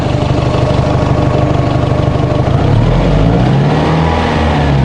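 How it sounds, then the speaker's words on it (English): A Toyota RAV4 engine with an overheating problem idles loud and close, then its revs climb partway through and hold at a higher, rougher drone. "bring up the RPM in here a little"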